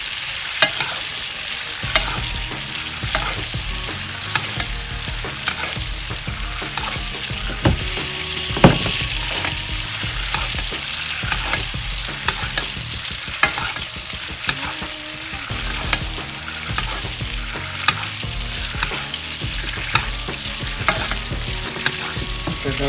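Steak searing in a hot pan, a loud continuous sizzle with frequent crackles and spits over about twenty seconds, close up and without talk.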